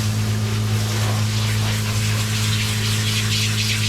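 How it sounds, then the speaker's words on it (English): A steady light spray of water from a sprayer hisses into a tub during a Cavoodle puppy's bath, with a low pump hum underneath, constant and close. "This is not high pressure. This is a light sprinkle."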